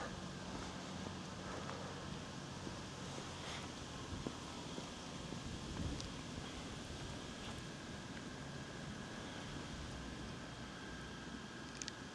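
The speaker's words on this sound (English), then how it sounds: "It's really windy right now" Wind buffets the microphone in a continuous low rumble and hiss, with occasional faint rustles and clicks throughout; no talking.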